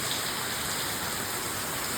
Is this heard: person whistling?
no